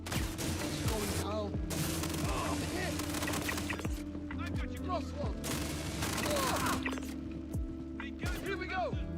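Gunfire and a grenade in the video game Star Citizen during an indoor firefight, with dense bursts of rapid shots and heavy booms over a low hum, while players talk throughout.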